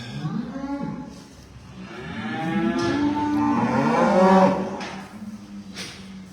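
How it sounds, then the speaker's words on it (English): Cow mooing loudly nearby in a farm barn, a long drawn-out bellow rising and falling in pitch over several seconds, followed by quieter rustling. "I'm just going to take this other cow and calf out."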